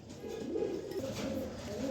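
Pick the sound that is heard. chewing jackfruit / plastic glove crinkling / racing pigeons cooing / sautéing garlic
racing pigeons cooing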